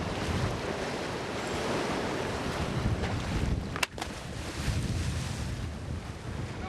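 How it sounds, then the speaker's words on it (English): A diver plunges into the Mediterranean Sea off Malta, a brief sharp splash cutting through steady rushing surf and wind noise that fills the whole stretch. "I throw myself into the vast Mediterranean Sea."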